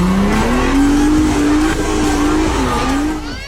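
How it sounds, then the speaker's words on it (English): A Toyota Land Cruiser straining to pull a Toyota Camry across slippery off-road ground, its engine droning loud and steady close by with shifting revs and a hint of tire squeal, easing off at the end. "A Toyota Land Cruiser tries to pull a Toyota Camry out of trouble."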